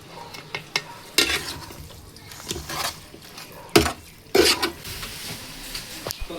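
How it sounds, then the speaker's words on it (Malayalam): Washed beef for biryani being stirred and mixed in a pot, with intermittent scraping and clanking of a spoon against the vessel, several distinct loud strokes separated by quieter gaps and a faint sizzle. "അപ്പോൾ കഴുകി വന്നിട്ട് ഇനി ഇളക്കി നല്ല വൃത്തി യോജിപ്പിച്ചെടുക്കാം"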